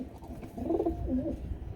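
A pair of racer pigeons coos at night after dusk, soft low warbling calls rising twice in the middle of the clip over steady room background.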